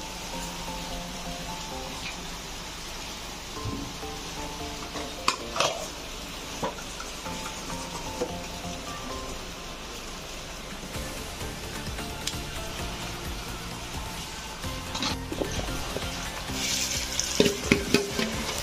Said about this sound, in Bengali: ঠিক এইভাবে আমি ভেজে নেব সবগুলো